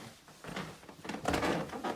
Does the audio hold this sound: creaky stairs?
yes